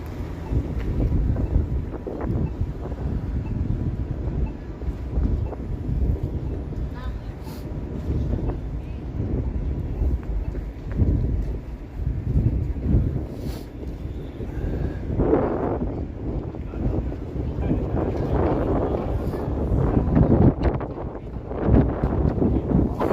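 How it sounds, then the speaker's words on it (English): Cold winter wind buffets the microphone on Yonge Street in downtown Toronto at night, a loud continuous low roar with gusty swells, while a person talks over it. "Frozen wind chill Yonge Street here."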